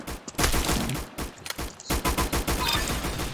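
Rapid bursts of grease gun fire in the game Arsenal, dense and loud with short gaps between volleys, continuing without talk.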